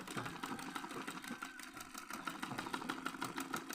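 A sewing machine stitching layered fabric in a straight seam for simple Hmong trousers, a fast, even mechanical whirr with rapid regular needle ticks, close and continuous.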